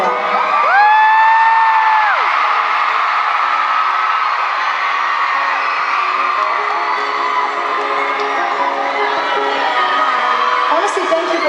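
A loud concert crowd in Tampa cheers, whoops and yells steadily throughout, a dense roar of many voices with a couple of rising shouts near the start.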